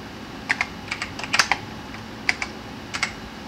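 Close, crisp clicks of a PC-98 computer keyboard as a DOS command is typed, in short uneven bursts of a few keystrokes with brief pauses, with no talking.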